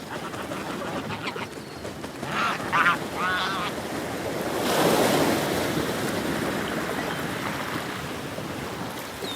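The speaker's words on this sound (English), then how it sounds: "The crashing waves intrigue them." Ocean waves crash and wash steadily on a beach, a continuous roaring surf that swells midway, with a few bird calls close by and a faint voice under it.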